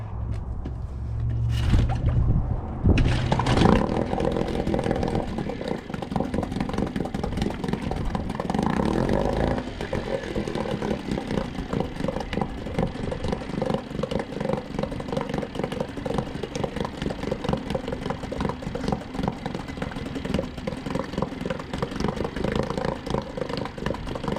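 A Mariner 5HP two-stroke outboard motor sputters to life after a brief cranking burst, then settles into a steady, buzzing idle that runs on continuously and fairly loud.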